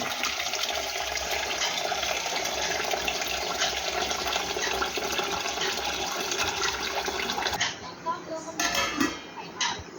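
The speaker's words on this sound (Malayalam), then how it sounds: "ഇനി ഇതിലേക്ക് വെള്ളം ഒഴിച്ച് വയ്ക്കാവുന്നതാണ്" Water pours steadily for several seconds into a bowl of washed rice for soaking, with a rushing, splashing hiss, then stops, leaving a few faint clinks and drips.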